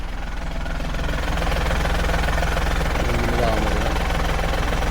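An Ashok Leyland Bada Dost truck engine runs close by, heard from outside, with a steady rumbling idle and a faint rhythmic knock throughout.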